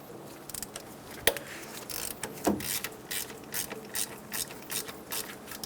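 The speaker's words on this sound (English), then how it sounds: "Using a 12mm socket, loosen the two nuts for the power steering pump." Ratchet turning a 12mm socket to loosen the power steering pump nuts on a 1994-1997 Honda Accord 2.2L four-cylinder, a close series of quick clicking bursts with a couple of sharper metallic knocks.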